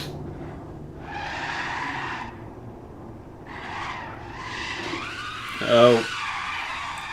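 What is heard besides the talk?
car spinning out with tires skidding in racing video game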